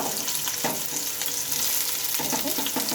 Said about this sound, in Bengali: তেলটাও বেশ গরম হয়েছে এখন দিয়ে নেবো হচ্ছে পেঁয়াজ কুচিটা